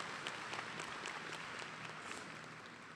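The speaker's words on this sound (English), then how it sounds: "that deserves a round of applause" Quiet, continuous applause from a graduation ceremony audience at Kennesaw State University, an even patter of many hands that stays level and distant, with no voices over it.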